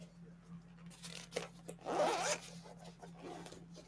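A zipper on the case holding a dice bag is pulled open in a few quick rasping strokes, loudest in the middle, set against a steady low hum in a quiet room.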